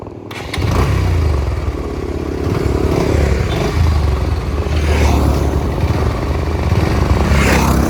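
A motorcycle rides along a long road, its engine droning loud and close with a steady rumble and rattling clatter throughout after a brief quiet start.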